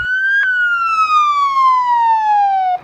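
A Spokane fire engine siren wails close and loud, a single long tone that jumps up briefly and then glides steadily downward before cutting off abruptly.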